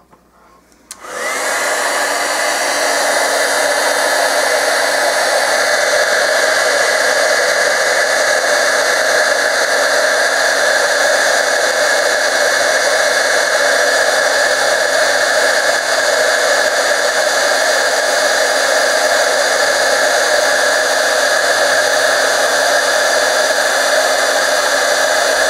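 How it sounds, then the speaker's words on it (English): A heat gun starts with a click and then blows a steady, loud, airy roar without pause while it melts embossing powder on clay. No one speaks. "And I'm going to get my heat gun."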